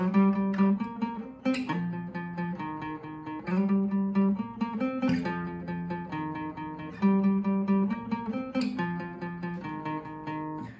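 A guitar strummed in a steady down-up rhythm through a short chord progression, bright and close, with no voices.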